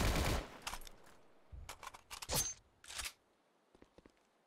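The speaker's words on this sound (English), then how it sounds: "Oh, I hear some shooting." Gunfire in a Roblox trench war video game: several short bursts of distant automatic shots separated by pauses, fading to faint scattered pops at the end, no speech.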